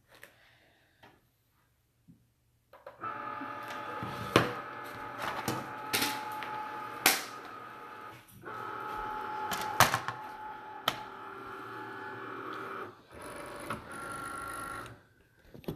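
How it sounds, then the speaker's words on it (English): A vinyl cutting machine runs its mat-size check, giving a steady mechanical whir with quick ticks and clicks that starts after a few quiet seconds and carries on close and clear with short pauses. "your machine's going to check the mat size."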